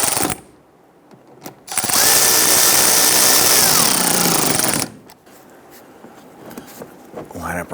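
A power tool tightens a fender liner bolt on a 2011-2019 Ford Explorer, a loud, harsh whirring burst of about three seconds between quieter stretches of handling noise and clicks, with a voice speaking nearby.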